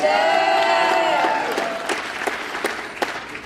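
At a costume contest, an audience gives a contestant a round of applause, dense clapping and a few cheers starting loud, then thinning into sparse, separate claps.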